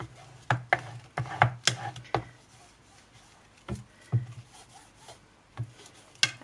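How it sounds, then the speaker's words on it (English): Fabric being burnished down onto a journal cover board, a series of short dry rubbing and scraping strokes, close and irregular, with quiet pauses between. "We're just going to give that a really good burnish down to make sure our fabric is well and truly"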